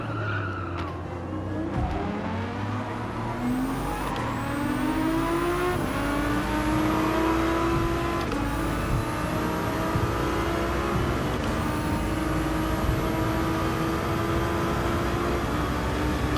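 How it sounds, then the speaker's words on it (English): Racing cars, an Audi among them, accelerate hard along a track, engines climbing in pitch through repeated gear changes, with brief tire squeal mixed into the steady, loud roar. "This is a drag race to the end, and I think the Audi has a straight line speed."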